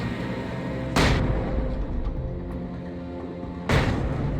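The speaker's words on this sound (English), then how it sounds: "just spam the flashbangs, we don't want to wipe" Flashbang grenades go off in the video game Alan Wake Remastered, two loud sharp bursts about three seconds apart, each with a short ringing tail over a low game ambience.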